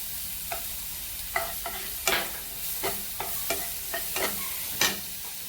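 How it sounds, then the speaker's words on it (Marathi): Chili paste with turmeric fries in a pan with a low, steady sizzle, broken by repeated sharp spatula taps and scrapes at an uneven rhythm. "त्यामध्ये आपण जी मिरची करून आणली पेस्ट अशी परतून घ्यायची आपल्याला."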